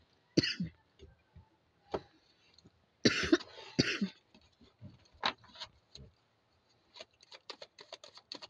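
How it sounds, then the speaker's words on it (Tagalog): Someone coughs repeatedly from an itchy throat, indoors and close, in short sharp bursts with pauses between them, alongside soft throat clearing and small taps. "Medyo makati yung lalamunan ko kaya hindi ko mapigilang umubo"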